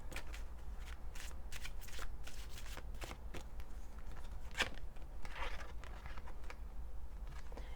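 Romance Angel oracle cards are shuffled by hand up close, a continuous papery riffle of rapid flicks and soft slaps lasting several seconds, with no voices.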